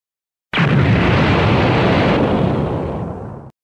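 A cartoon nuclear bomb explosion from an animated GoAnimate scene: one loud, sudden roaring blast that holds as a dense rumble for about three seconds before cutting off abruptly.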